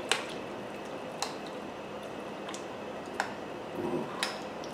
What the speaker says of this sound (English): Let's get our spoon now. Mix this all up.